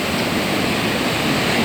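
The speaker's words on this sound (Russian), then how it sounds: "Вот это волнение." Big waves churn where a river meets the sea, a loud, continuous broadband roar of rushing and crashing water heard up close with no voices.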